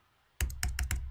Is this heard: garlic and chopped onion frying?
no